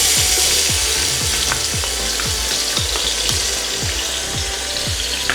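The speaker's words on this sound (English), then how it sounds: "So I'm adding half a cup of oil in here. Okay. And I'm going to add a 1/4 cup of minced garlic." Minced garlic sizzles loudly in half a cup of hot oil, a dense continuous crackle close to the microphone, with steady scraping stirs underneath and no speech.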